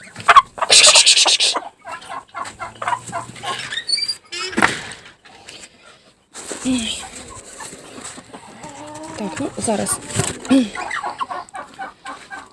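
Chickens clucking in a Ukrainian farmyard where muscovy ducks, ducklings and turkeys are also kept, with scattered clucks and rustling over several seconds while a person talks nearby.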